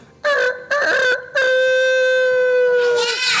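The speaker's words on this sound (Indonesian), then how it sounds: "Ayam jago berkokok hari itu." A rooster crows loudly and close, with two short broken calls leading into one long sustained cock-a-doodle-doo that trails off at the end.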